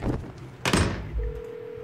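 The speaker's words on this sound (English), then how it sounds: "I rang the phone by accident" A phone in the Hello Neighbor game gives a dull thunk followed by a steady, sustained electronic tone that holds to the end, loud and close, with no talking over it.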